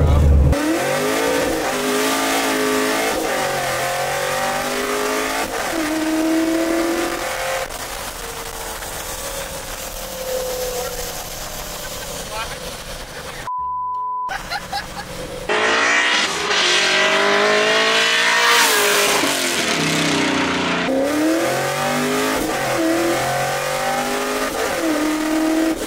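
A Chevrolet Camaro, a supercharged car, revving loudly with engine pitch rising and falling through repeated bursts, a brief dropout midway, then more hard acceleration; people talk in the background.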